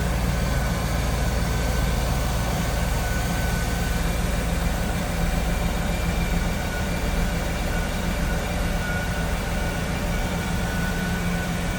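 A 1997 Chevrolet Camaro 30th Anniversary Convertible with a 5.7 liter small block V8 idles smoothly, a steady low rumble held at an even level throughout with no voices.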